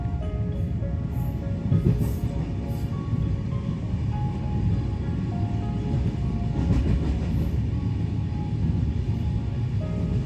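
A train runs past near Hijli station in the Kharagpur area, a loud, continuous rumble with rhythmic wheel clatter heard from on board or close by, steady throughout with no speech.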